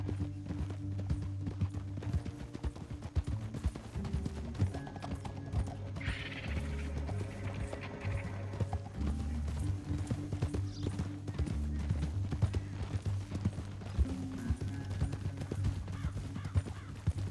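Horse hooves clip-clopping steadily through a canyon ride in the video game Red Dead Redemption 2, a rhythmic continuous gait over low engine-like game ambience, with occasional soft background sounds.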